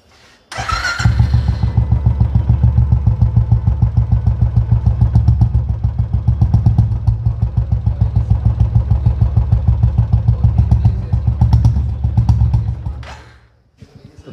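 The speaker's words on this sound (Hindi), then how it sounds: "तो दोस्तों मैं आपको इस बाइक की साउंड सुनाता हूँ फिलहाल, कि कैसी साउंड है, इसका एग्जॉस्ट कैसे हैं।" A modified Yamaha FZ 600cc motorcycle fires up with a sharp burst, then settles into a loud, steady, throbbing exhaust rumble close by for about twelve seconds before cutting off.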